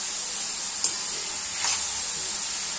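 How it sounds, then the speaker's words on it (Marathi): Carrot halwa fries in ghee over a low flame, giving a steady soft sizzle, with two brief scraping stirs partway through and no talking. "हलवून आपल्याला गाजराचा हलवा बनवायचा असतो"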